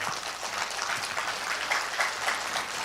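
An audience applauds at a lecture on defending liberty, a steady, moderately distant wash of many hands clapping without pause throughout.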